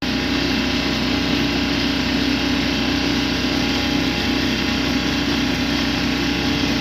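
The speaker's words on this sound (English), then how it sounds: "Got a boat just going down over there." A steady boat engine drone runs throughout, a constant motor hum with no voices, as a boat motors past an anchorage in Holbrook Bay.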